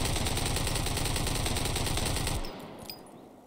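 An AKS-74U rifle firing full auto in a video game, a loud rapid unbroken burst of close gunshots lasting over two seconds before cutting off into quieter game ambience.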